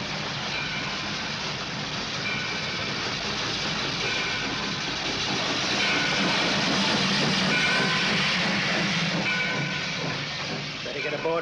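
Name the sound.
steam train approaching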